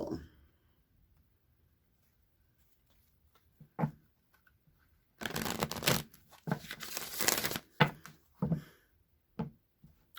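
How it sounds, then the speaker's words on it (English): A deck of tarot cards shuffled by hand, heard as a few soft isolated riffles, then a longer dense burst of crisp flicking and riffling, and a few final taps, up close in a quiet room. "One more shuffle."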